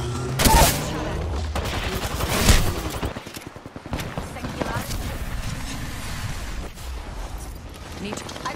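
Video game gunfire sounds in loud bursts of shots with mechanical clatter, mixed with game effects and a player's spoken callouts throughout.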